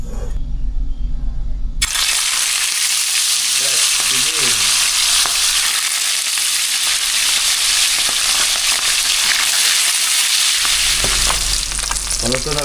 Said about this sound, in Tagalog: Iprito natin itong ating ibinabad na bangus o daing.